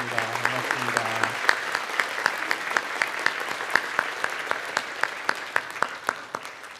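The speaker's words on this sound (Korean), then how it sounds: "우리 필리핀에서 오신 분들 다 일어서시면 우리 박수로 환영하도록 하겠습니다" A church congregation at a Sunday worship service claps in welcome for visitors from the Philippines, a dense steady applause of many hands that follows brief speech at the start and thins slightly toward the end.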